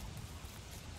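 Rain in the video game Don't Starve Together patters as a dense, steady hiss, faint and continuous with no talk.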